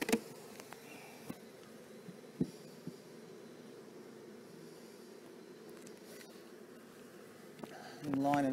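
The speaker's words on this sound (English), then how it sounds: "Bees out of the way." Honey bees hum steadily around an open hive box during an inspection, a soft continuous buzz with a few sharp knocks and a louder rustle of the box near the end.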